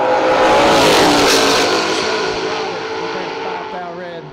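A drag-racing Camaro with an SP2 setup revs loudly, its roar peaking early and then easing off to a lower sustained drone, with a voice audible over it.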